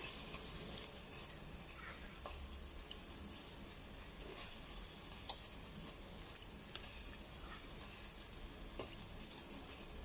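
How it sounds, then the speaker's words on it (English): Beef sizzles as it browns in a little oil in a pan for German goulash, a steady close hiss with light crackle and occasional stirring clicks, going on throughout with no talk. "add a small bit of oil to your pan, and then you're just going to brown off the meat"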